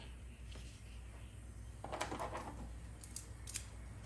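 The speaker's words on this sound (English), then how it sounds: "I'm going to cut another strip." Scissors cut a strip of material during an air box conversion on a 2022 Dodge Charger GT, a few quiet snips and crisp cutting clicks near the end over a faint low background hum.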